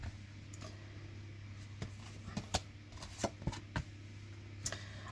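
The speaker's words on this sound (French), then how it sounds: "Allez, je sors les cartes." Tarot cards being shuffled, a run of soft irregular riffs and slaps up close over a low steady hum.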